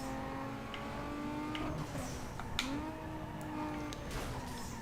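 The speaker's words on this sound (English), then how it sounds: "here we are in silence, just listening to the weird engine noises." A car engine in the video game Need for Speed Underground 2 revs and shifts continuously, rising and falling in pitch with no music or voices.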